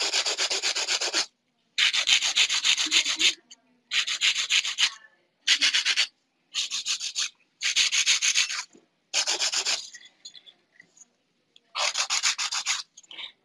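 A 100 grit file shaping nails during a nail-art manicure: repeated bursts of dry, raspy rubbing strokes about a second long, separated by short pauses, close and fairly loud with no talking.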